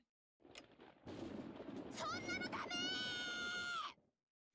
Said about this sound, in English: She just summons lightning.